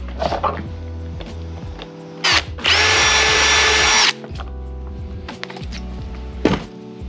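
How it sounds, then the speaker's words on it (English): A power drill drills an 8mm hole in car interior trim, whirring loudly for about a second and a half, framed by clunks and handling noises before and after. "We're gonna go ahead and jump to an 8mm."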